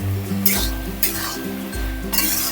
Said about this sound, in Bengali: মটরটা দেওয়ার পরে আমি খুব ভালো করে আরও কষিয়ে নেব।